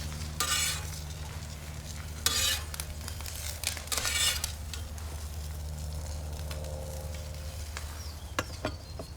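Food sizzling and frying on an Evo flat-top grill during an American brunch cooking demo, a steady close sizzle with several scraping, clinking spatula strokes as pieces are flipped.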